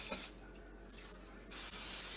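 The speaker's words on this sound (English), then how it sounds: "Spray a large casserole dish with cooking spray." Canola cooking spray hisses from a can into a large casserole dish in two short bursts with a pause between, close but fairly soft.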